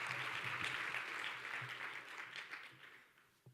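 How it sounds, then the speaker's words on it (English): Audience applause at a chamber of commerce women-in-business event, a brief burst of many people clapping together that stays fairly steady, then thins and fades toward the end. "Let's give the Chamber another round of applause."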